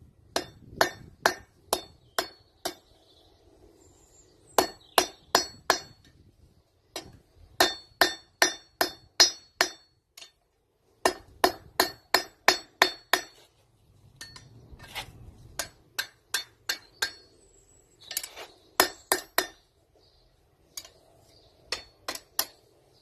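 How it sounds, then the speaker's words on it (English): A blacksmith hammers a point on hot metal off the far edge of the anvil, sending out bright ringing strikes in quick groups of three to five. The blows repeat steadily with short pauses between groups, close and loud. "we're now going to hit this point off the far edge of the anvil"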